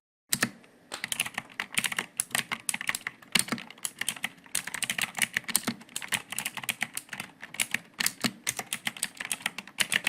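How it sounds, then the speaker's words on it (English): Rapid, uneven clicking of computer keys as a formula is typed into an Excel spreadsheet cell, close and crisp for about ten seconds with only brief pauses. "Select cell and type formula as shown at screen."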